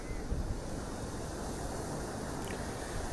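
Strong wind of Cyclone Remal in West Bengal, a continuous loud rushing roar with heavy low buffeting against the microphone and no breaks.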